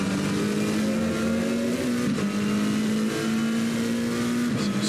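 McLaren GT3 race car engine in Assetto Corsa Competizione, racing at Bathurst, a steady loud drone holding a sustained pitch with slight dips as it shifts, continuous throughout with no talking.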